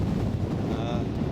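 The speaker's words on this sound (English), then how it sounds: "It's still very windy and it's only 3 degrees." Strong, cold wind in the open beside a river in Wensleydale, roaring steadily as a broadband rush across the whole moment with no clear gusts or gaps, close and buffeting the microphone.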